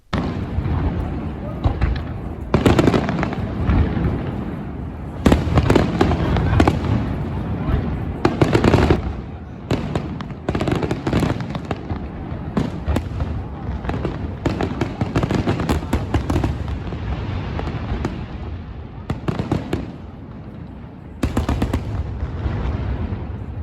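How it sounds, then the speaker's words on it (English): Fireworks display over Dubai Marina, loud booming and crackling bursts arriving in irregular clusters over a continuous rumble, with voices faintly mixed in. "there are fireworks displays here"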